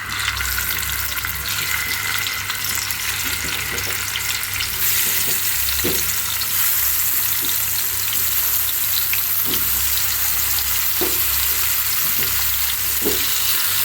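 Pumpkin coated in turmeric, chilli and salt frying in hot oil in a frying pan, a loud continuous sizzle with occasional stirring clicks, close up and without talk.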